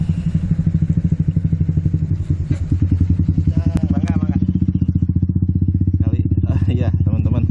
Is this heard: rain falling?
no